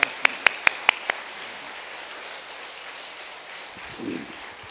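Church congregation applauding: a handful of sharp, evenly spaced claps at the start, then a soft, sustained wash of clapping continuing in the background.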